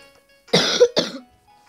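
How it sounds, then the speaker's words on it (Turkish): Two short, harsh coughs in quick succession, close and loud, in an otherwise quiet room. "öksürük."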